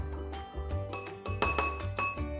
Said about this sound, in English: now we're going to stir that up to make sure the essential oils are evenly incorporated.